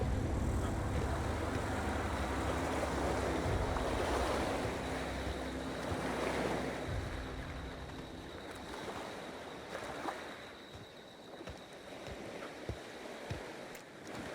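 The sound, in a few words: water waves in The Outer Worlds video game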